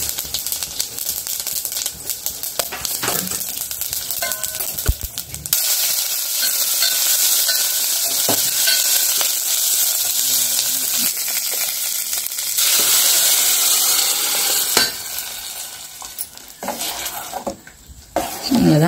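A tempering for dal curry sizzles in hot oil with a loud, steady hiss, joined by scraping and stirring clatter from the pan, with brief bumps and knocks around it.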